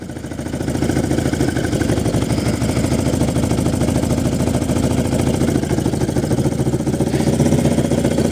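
Motorcycle engine idling steadily at about 1500 rpm, a close, continuous pulsing rumble with a fast, even beat and no speech over it.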